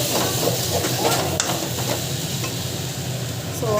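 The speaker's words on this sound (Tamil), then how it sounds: "நல்லா வந்து வதக்கிக்கோங்க" Ingredients sauté in a pan with a loud, continuous sizzle and hiss, overlaid by irregular scraping of stirring close by.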